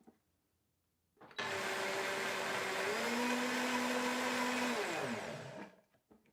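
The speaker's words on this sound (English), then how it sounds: "And I'm going to blend that up." A JTC Omniblend TM800 high-speed commercial blender blending raw cacao powder, macadamia butter and coconut sugar, starting abruptly after a quiet moment, roaring loud and close for about four seconds with a shifting motor pitch, then spinning down to a stop.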